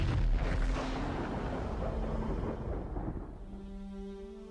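A deep, rumbling explosion meant to stand for a star blowing up as a nova or supernova, booming loudly at first and then rolling off into a long low roar, with faint tonal hums entering near the end.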